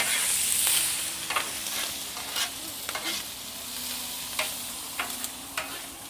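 Cauliflower fries on a Blackstone griddle in a constant close sizzle, broken by crisp spatula scrapes and taps at irregular intervals.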